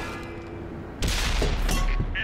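A single heavy tank cannon shot in World of Tanks, a sudden loud blast about halfway through followed by a rumbling, ringing tail over engine drone.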